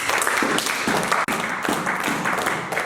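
Sustained applause from a church congregation, thick overlapping hand claps filling the space at a constant loud level, with a brief dip partway through and some voices mingled in.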